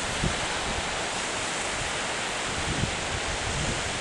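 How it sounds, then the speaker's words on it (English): Broad, steady roar of waves and wind on a beach, with a few dull thumps of waves slamming against beach ice, fairly close and continuous throughout. "You can see the waves kind of slamming up against it."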